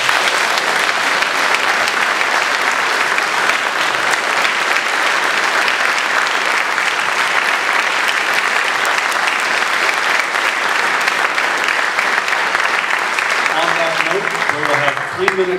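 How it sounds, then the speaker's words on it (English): Sustained, loud audience applause for candidates at a 2014 California congressional district 50 debate, dense steady clapping filling the whole stretch, with faint speech emerging near the end. "I would like the audience to give them a nice round of applause."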